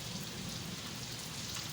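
Continuous heavy rain pours down outdoors at around 9:30 in the morning, a dense, steady hiss with no pause, close and even throughout.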